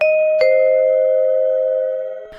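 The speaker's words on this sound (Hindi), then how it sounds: "तभी उनके फ्लैट की घंटी बजती है।" A doorbell at a flat's door chimes loudly with a clear, sustained ding-dong tone that rings out and slowly decays, with a couple of brief clicks around it.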